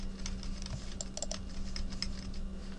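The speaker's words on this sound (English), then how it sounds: "starting the system in safe mode is simply just pressing the function F8 key at the right system reboot." Fingers tapping a key on a computer keyboard in a rapid run of light, crisp clicks during a system reboot, close to the microphone, with no talking.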